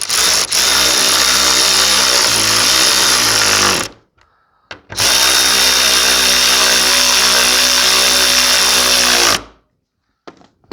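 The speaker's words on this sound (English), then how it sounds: "So you just want to tighten these bolts back." A power tool runs hard, tightening bolts during engine removal on a 2006 Subaru B9 Tribeca. It makes two long, loud, steady whirring runs of about four seconds each, separated by a brief pause, with a short trailing stop.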